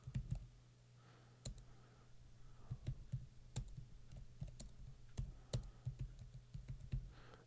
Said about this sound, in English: I'm hitting the space bar every time